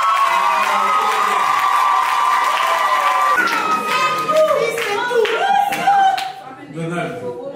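Wedding guests clap and cheer at a French civil wedding ceremony, a steady wash of applause with voices and children's shouts mixed in, while a voice talks over the crowd.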